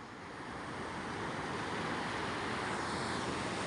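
Small sea waves washing under steady wind, a continuous broad rushing that swells slightly louder after the first second, with no voices.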